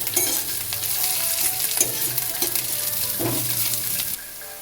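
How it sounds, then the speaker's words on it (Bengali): Onion frying with slit green chillies in a pan gives a close, steady sizzle, broken by a few stirring clatters before the hiss eases near the end; nobody speaks. "পেঁয়াজটা ভাজা হয়ে এলে দিয়ে দিচ্ছি কয়েকটা চেরা কাঁচা লঙ্কা।"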